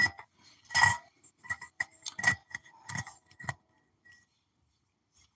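An ornate glass container with filigree is handled up close, giving several light clinks and taps in an irregular scatter, separated by short silences.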